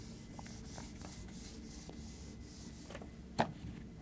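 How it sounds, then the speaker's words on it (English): An eraser rubs out a drawing of a wall for an explanation of airflow and dimples on a car intake, making a soft, steady rubbing swish over several seconds, followed by one sharp tap near the end. "I'm going to just rub this out."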